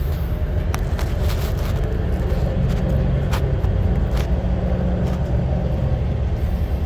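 A Detroit Series 60 12.7 diesel in a 2016 glider kit truck runs after a fuel filter change, giving a loud, steady low rumble close by with a few faint clicks over it.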